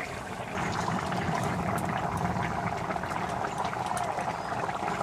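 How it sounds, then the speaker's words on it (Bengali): A pot of village-style curry with potato, pointed gourd and desi chicken eggs bubbles steadily, giving a continuous close, even simmering hiss with faint liquid burbling throughout. "তরকারিটা ফুটছে"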